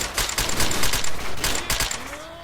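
Rapid automatic gunfire in the video game STALKER Shadow of Chernobyl: a close, loud burst of about a dozen sharp cracks in quick succession, ending in a short mechanical clatter.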